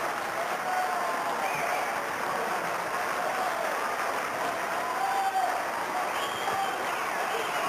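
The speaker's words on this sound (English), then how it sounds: "Enormous round of applause for both of those players who really have been fantastic stalwart for the club." Crowd applause at a 1999 Glenelg football match for two retiring club stalwarts, a steady, fairly distant roar of clapping that stays even throughout.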